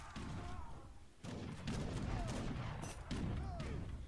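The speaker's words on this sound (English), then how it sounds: "these light cannons are just going to make mincemeat of these buildings" Light cannons in Age of Empires III pound buildings in a rapid series of booming shots and crashing impacts, dense and continuous at a moderate level.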